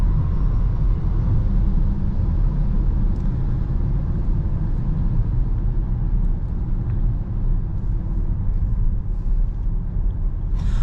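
Cabin noise of a VW ID4 GTX electric SUV cornering: a steady, loud low road and tyre rumble with a faint whine, continuous for the whole stretch and without speech.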